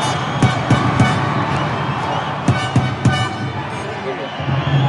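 A Mexico City wrestling arena crowd roars and yells in a steady, dense wash, with sharp thuds and slams cutting through, while someone talks over the din.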